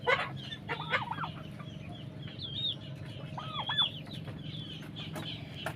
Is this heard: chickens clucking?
yes